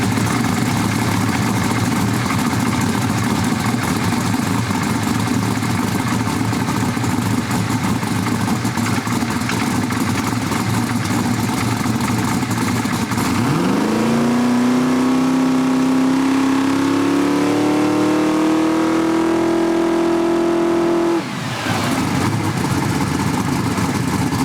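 A turbocharged engine idles steadily, then revs up into a rising whine that holds before cutting back sharply, loud and close with no talking.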